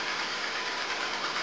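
An American Flyer 290 toy train runs with a continuous hissing, whirring motor noise at a steady level, close and uninterrupted, with no voices.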